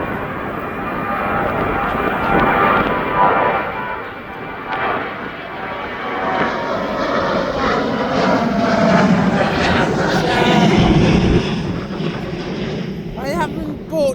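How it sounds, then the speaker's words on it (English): A TUI passenger jet on its Gran Canaria flight takes off from East Midlands Airport, its engine roar loud and sustained, swelling and shifting in pitch as it climbs, with a person talking over it. "there goes the Gran Canary flight, the TUI flight"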